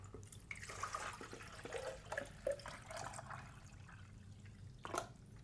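Water poured into the removed water tank of a Nurri R-Type DB espresso machine, soft close splashing and trickling with small drips, quiet and fairly continuous.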